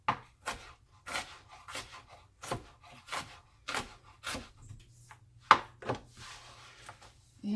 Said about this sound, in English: I'm just chopping up some onion.